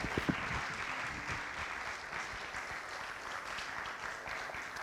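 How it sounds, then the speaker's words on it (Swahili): Steady audience applause fills a music launch event, a dense crowd of clapping hands sustained at moderate loudness throughout with no pauses. "Keep on clapping."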